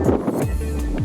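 Strong wind buffets the microphone outdoors during pigeon training, producing low rumbling gusts that surge and fade in quick bursts.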